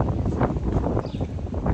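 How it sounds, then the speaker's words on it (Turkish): Strong wind buffets the microphone outdoors, a steady roaring rumble with gusty swells throughout and no other clear sounds. "Çok rüzgar var."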